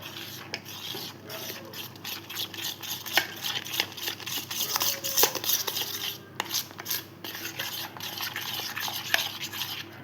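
A spoon scrapes and churns through mango pancake batter in a bowl, a steady rubbing, gritty mixing noise with small clicks of utensil against the bowl, close and continuous for about ten seconds, with no one talking.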